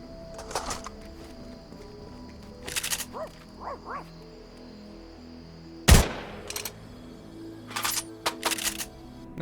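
Short bursts of rapid SMG fire from the Surgefire SMG in Fortnite come in several separate volleys, with a sharp loud crack near the middle and quieter mechanical clicks between bursts.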